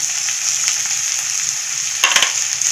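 White peas curry mixture with onion-garlic masala, garam masala and coriander sizzles and fries steadily in a pan, a close continuous crackle with a brief burst of stirring near the end.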